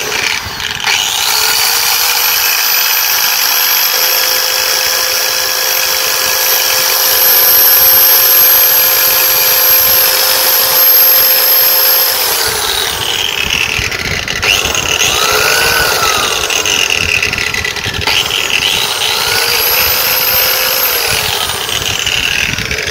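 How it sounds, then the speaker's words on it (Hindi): A repaired electric wall sanding machine, just fitted with a new armature, runs loud and steady with a high motor whine and gear hum, its pitch dipping and rising as the load changes, with no talking. "मशीन फिटिंग करने के बाद हम चला के देखते हैं मशीन बड़े से चलेगा उसमें कुछ भी प्रॉब्लम नहीं है"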